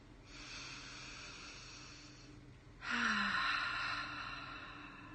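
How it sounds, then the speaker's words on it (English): Deep breathing during a calm heart-focused relaxation exercise: one long, airy inhale followed by a louder, fuller exhale, close and steady, with no talking. "let's take a couple deep breaths"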